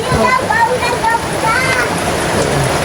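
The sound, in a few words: heavy rain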